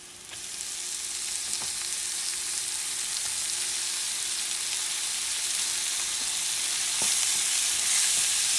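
Ground beef for Mediterranean-style stuffed eggplant with turmeric sizzles steadily in a hot pan, the constant frying hiss punctuated by a few scrapes as it is stirred, close and alone without talk.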